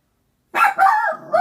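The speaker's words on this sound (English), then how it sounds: "Lord, my dog barking." A dog named Darla lets out a short burst of two or three sharp, close barks that run into each other. Silence comes before them, and nobody speaks.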